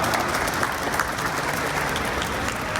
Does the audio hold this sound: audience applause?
yes